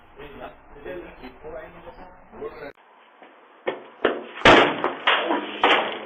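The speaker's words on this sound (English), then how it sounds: "How was the door opening so fast" A front door caught on a doorbell camera bangs and thuds several times in quick succession, loud and close, after a stretch of muffled talking.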